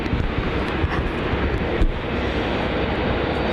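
A Rex aircraft at Melbourne Airport heading off toward the runway for departure gives a loud, continuous engine roar with broad rushing noise and wind buffeting. No voices come through over it.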